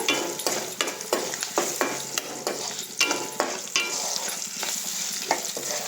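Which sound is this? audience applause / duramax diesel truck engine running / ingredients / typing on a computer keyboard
ingredients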